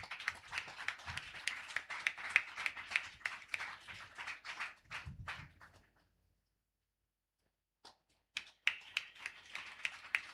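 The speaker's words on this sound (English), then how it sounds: "Please give them a round of applause." A small audience gives a round of applause at an inauguration ceremony of a skill academy in Kochi, with sparse, distinct handclaps that stop briefly into silence and then resume for a few more claps.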